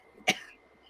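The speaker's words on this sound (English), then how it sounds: "I'm coughing my ass off" A single short, sharp cough rings out close by during a casual trivia night, then quiet.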